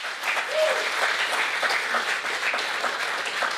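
A church congregation applauding together, a dense sustained burst of clapping at moderate distance with some voices mixed in.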